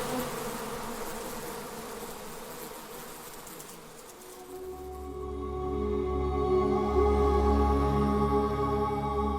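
A dense, steady swarm of bees buzzes close by at a hive on an apartment in October, the drone thickening into a louder, fuller hum partway through.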